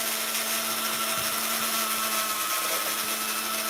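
A Dremel rotary tool hums continuously while cleaning up a surface, a steady close, high-pitched whine held throughout with no break.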